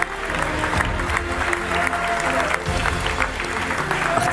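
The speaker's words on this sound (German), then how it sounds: "auch nochmal gerne Applaus" A crowd at a Fortnite gaming tournament claps steadily throughout, a dense roomful of applause with a few voices mixed in.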